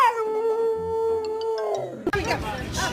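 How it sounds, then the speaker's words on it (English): A dog lets out a drawn-out, wavering howl-like cry indoors, which breaks off into noisy scuffling and barking, with people's voices nearby. "now she's barking at the dog."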